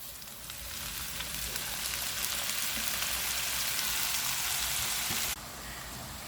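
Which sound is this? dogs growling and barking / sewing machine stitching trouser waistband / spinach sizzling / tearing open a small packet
spinach sizzling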